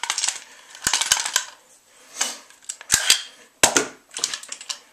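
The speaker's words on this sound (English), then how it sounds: "Here's the clear mag." A clear 18-round magazine wobbles in a RAP4 airsoft rifle, producing repeated clattering rattles with a few sharp metallic clicks spread across the clip.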